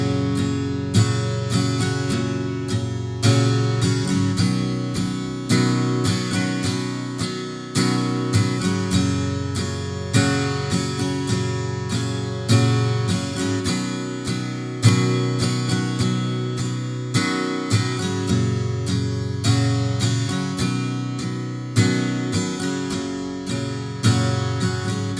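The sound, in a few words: guitar playing verse of a song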